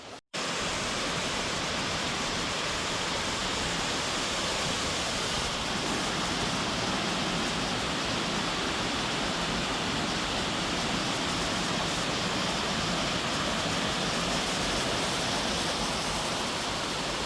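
Boulder Falls on the Boulder River in winter pours in a steady, broad roar of falling water, loud and unbroken from start to finish with no voices.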